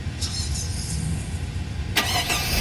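A SsangYong Chairman W124 car engine is cranked and catches during a fuel filter replacement, a steady rumble building to a louder burst of engine noise near the end, close by with no talk.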